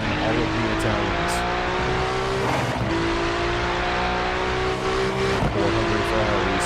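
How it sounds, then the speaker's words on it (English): GT3 race cars, a pack of Ferraris chasing a lone Porsche around Mid-Ohio, roar steadily with layered engine tones that rise and shift as they shift gears, loud and continuous, with a commentator's voice in the background. "400 Ferraris in pursuit of a lone Porsche"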